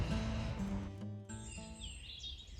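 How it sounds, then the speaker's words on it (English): Birdsong outdoors at a farm in spring, early morning: a robin warbling nearby, with a fainter, distant blackbird singing further off, continuous and layered. "the robin, quite a distant blackbird"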